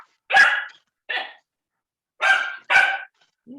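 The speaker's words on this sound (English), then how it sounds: "He's a very vocal dog." A dog barks indoors in four loud, close barks, spaced unevenly with a short trailing yip at the end and silence between.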